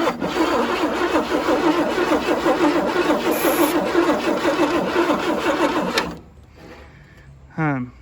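An abandoned 1977 Chevy Camaro engine cranking over with a rapid, rhythmic churn for about six seconds without catching, then cutting off into quiet.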